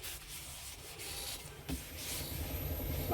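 Steady abrasive rubbing of Yorkshire grit paste against a turned wooden lidded box spinning on a lathe, a continuous close friction hiss that grows slightly louder toward the end.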